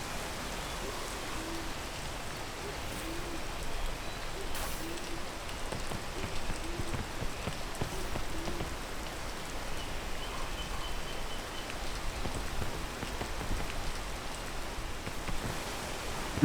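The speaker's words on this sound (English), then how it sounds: "And now we're stuck in the rain again." Steady rain falling in a jungle area of the video game PEAK, a continuous soft hiss of drops spread evenly across the whole stretch, with no voices.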